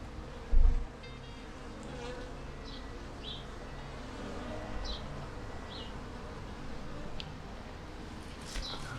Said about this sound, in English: few bees coming back in with pollen, which indicates there's young in the hive